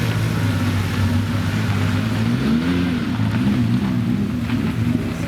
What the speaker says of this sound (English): That's a great example of the 275 4-cam. GT Berlinetta 4-cam,